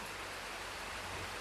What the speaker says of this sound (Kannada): ನೋಡಿ, ಫುಲ್ ಮಳೆ ಬರ್ತಾ ಉಂಟು.